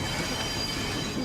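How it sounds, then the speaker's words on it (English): Train wheels on a fast-moving train in the Medal of Honor Above and Beyond video game give a loud, steady metallic rumble and screech on the rails, continuous throughout with no pauses. "You're on a collision course with a southbound train loaded with fuel and ammunition."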